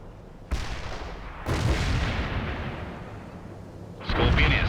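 Medium artillery barrage in the video game World in Conflict: a loud, close boom followed by a heavier blast that rolls into sustained rumbling, with another sharp burst of fire near the end.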